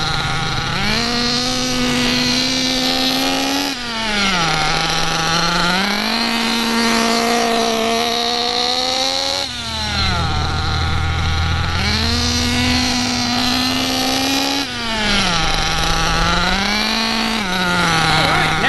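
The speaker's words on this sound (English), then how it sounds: "run some figure eights. While doing figure eights, you want to keep the buggy moving without going over half throttle." A Redcat RC nitro buggy engine runs figure eights below half throttle during break-in. It gives a continuous buzzing drone whose pitch dips and climbs again in repeating cycles a few seconds apart as it rounds each loop.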